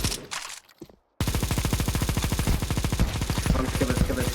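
Rapid automatic gunfire rattles nonstop in a Counter-Strike 2 zombie escape round on the sandstorm map, loud and dense after a brief mix of clatter and a moment of silence.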